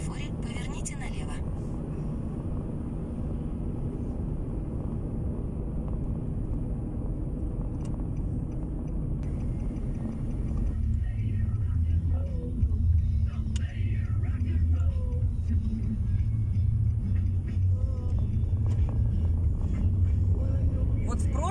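Car on a road trip out to a dacha, heard from inside the cabin: a steady low engine and road rumble runs the whole way, growing heavier and fuller midway, with faint voices now and then.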